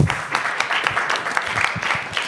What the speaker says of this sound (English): Let's do another round of applause for that.